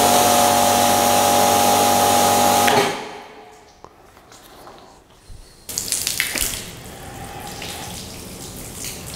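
A thin stream of water rinses a car finished with CarPro CQuartz Lite coating, a loud steady hiss with a faint motor whine that cuts off abruptly, followed by quiet drips and scattered handling noises.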